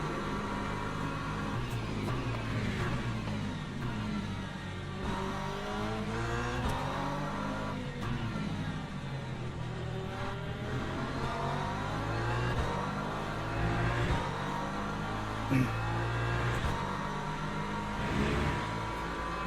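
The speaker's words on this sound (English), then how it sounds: "There comes an LMP2 coming through." An LMP2 prototype race car in the Le Mans Ultimate sim sweeps past on the Silverstone circuit, its engine note rising and falling in steady pitch sweeps, loud and continuous, with no talking.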